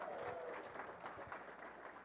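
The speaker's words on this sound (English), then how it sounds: "Big round of applause for Amit." An audience at a developer conference claps for the winner of a rock, paper, scissors round, a brief, dense burst of applause that is faint and distant.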